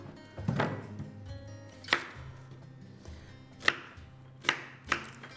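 Knife cutting food into four pieces on a board, a few distinct thunks spaced irregularly and fairly quiet, with no voices.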